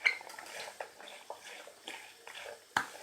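A spoon stirs chili flakes, salt, black pepper, mint and thyme into a filling in a bowl for rose börek, making faint, scattered clinks and scrapes in a quiet room.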